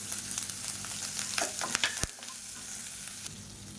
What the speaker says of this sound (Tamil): பச்சை மிளகா பொடியாக கட் பண்ணியிருக்கேன் இப்போ எண்ணெயில் போட்டு வதக்கிக்கலாம்